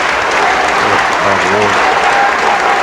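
A crowd applauds with steady, dense clapping throughout, loud and close, with faint voices mixed underneath.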